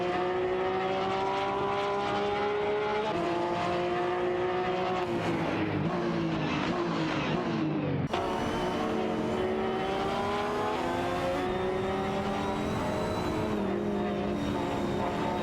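Lamborghini Gallardo GT3 and Porsche 911 997 GT3 RSR racing in a video game, engines roaring continuously with rising and falling pitch as they shift and accelerate, loud and close throughout.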